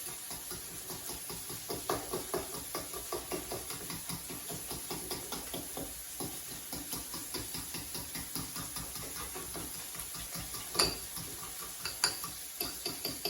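Pork rinds, egg and cheese being mixed in a bowl, a steady run of soft knocking and scraping strokes with a faint hiss underneath, close and continuous with no talking.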